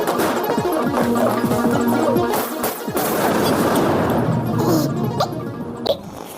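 Rapid pistol shots crack over a dense, busy background of music and effects in a superhero film fight scene, with several sharp shots clustered through the middle.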